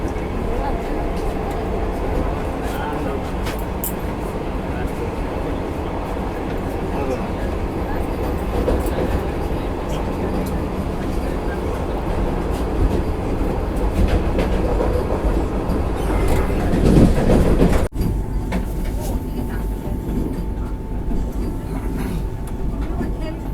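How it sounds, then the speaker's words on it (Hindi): A Vande Bharat Express train running between Howrah and Patna while overtaking another train, heard as a loud, continuous rumble and rattle of wheels on track that swells, then changes abruptly near the end. "स्किप मार रहे हैं और साथ ही में ओवरटेक भी मार रहे हैं किसी ट्रेन को"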